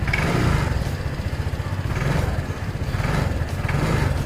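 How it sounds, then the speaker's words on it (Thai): A Honda PCX150 scooter from 2018 running close by, its engine droning steadily with a few mild swells of revving and no talk over it. "ผมจะลองบิดให้ดูนะครับ นี่ครับบิดเป็นมานะครับ"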